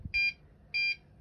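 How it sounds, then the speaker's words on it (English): Two short, shrill electronic beeps from a soldering iron reminder timer sound close by, evenly spaced about half a second apart, with a faint click at the end. "So currently I've got it set for 1 minute and it has started beeping."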